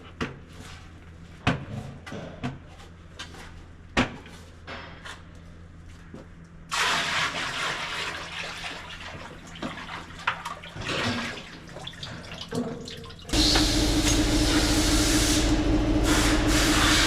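Water running from a tap into a bucket in a shop, a steady hiss that starts partway through after some clunks and handling noises, then grows louder and fuller as the flow increases.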